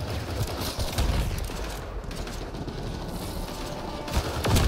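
A gun turret fires at an enemy during combat in the video game Mass Effect: Andromeda: a dense, sustained burst of rapid gunfire rolls on without pause, loud and close, with no voices over it.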